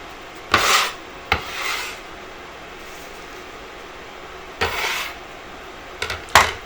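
A spoon scrapes and stirs spinach wilting in a pan, a few rasping strokes spaced apart over a low background hum, no talk.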